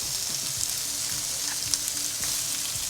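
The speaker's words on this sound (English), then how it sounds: "Give it a quick saute." Onions and peppers sautéing in about two tablespoons of hot oil, a steady, even sizzle with occasional soft stirring clinks, heard alone.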